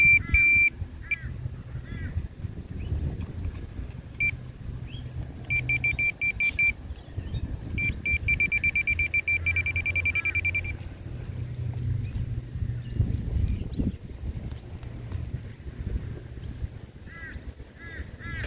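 A metal detector's electronic tone sounds in repeated bursts of steady high beeps during a dig for buried items in Australia, over rustling handling noise and low rumble.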